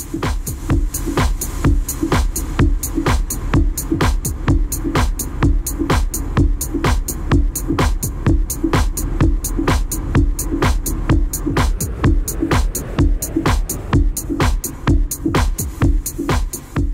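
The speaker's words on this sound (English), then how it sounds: "This reverb has a really lush, thick and warm sound to it." A steady electronic beat with punchy regular kicks and bright hits, each trailing into a thick, warm wash of reverb, loud and continuous.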